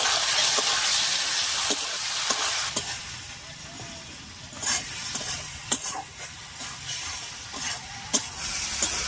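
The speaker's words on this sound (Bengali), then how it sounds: "কাঁচা লঙ্কা আর টমেটো দিয়ে আরও একটু রান্না করে নিয়েছি।" Tomatoes and green chillies frying with spices in a pan for a chhana curry, a steady close sizzle with repeated sharp scrapes of a spatula against the pan, with no talking.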